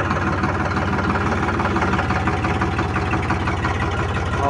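A new 2024 Eicher 551 tractor's diesel engine labours at full steering lock, a steady, close, low throbbing drone with an even rhythmic pulse and no talking.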